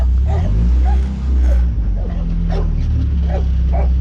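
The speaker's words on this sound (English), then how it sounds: "I'll hear the dogs barking." Dogs barking and yipping in short bursts over a steady low engine rumble, the barks moderately close and repeating irregularly.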